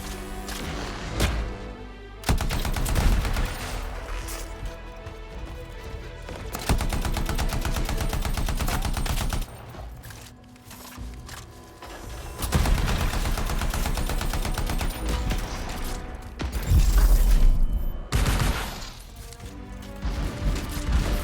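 Turrets in the video game Anthem fire repeated loud bursts of heavy gunfire, with crashing impacts between rapid volleys and short quieter gaps.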